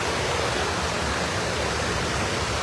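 Heavy water rushing over the spillway of Açude Araras, a large reservoir in northern Ceará, a steady loud broadband roar with no break, close and continuous, no voices.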